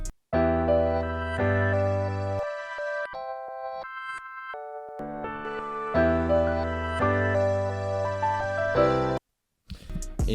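Mellow Rhodes electric piano chords chopped by a Gross Beat effect into rhythmic gated stutters, sustained notes cutting in and out in a pattern before a brief silence near the end.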